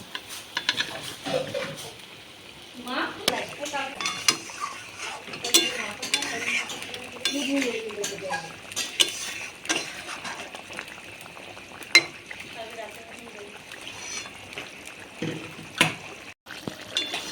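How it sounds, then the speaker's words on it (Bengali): Fish slipping into a pot of boiling thin Bengali fish curry made with ground cumin, with a stretch of clinks, stirring scrapes and light bubbling at close range, and scattered faint sounds throughout. "মাছের ঝোল আমাদের ফুটে গেছে আমি এবার মাছগুলো সব দিয়ে দিচ্ছি"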